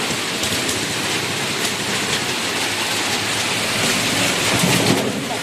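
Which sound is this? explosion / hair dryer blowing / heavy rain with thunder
heavy rain with thunder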